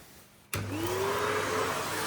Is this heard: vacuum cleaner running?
yes